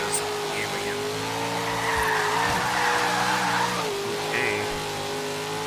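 A 1970 Chevrolet Chevelle racing in Forza Horizon 3: a loud, steady engine drone shifts pitch through gear changes while tires squeal and skid, and a voice speaks briefly.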